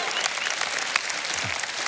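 Congregation applauding during a church sermon, a steady wash of many hands clapping that fills the whole stretch, with faint voices beneath.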